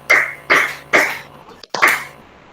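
Hands clap together as a group on a count, with three crisp, evenly spaced claps, a short gap and a fourth clap, each ringing briefly, close and fairly loud.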